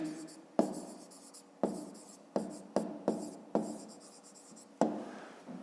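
A pen writing on paper during a fifth-grade maths exercise, a series of quiet separate scratchy strokes, each starting with a soft tap and trailing off, with pauses between them.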